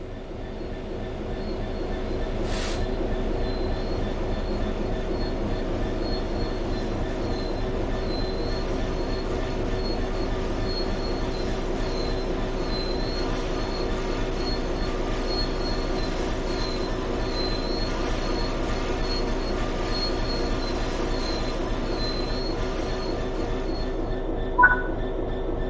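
Train braking in the Train Sim World 3 video game, with steady rolling rumble and a sustained high metallic wheel squeal running throughout, plus a brief sharp click near the end.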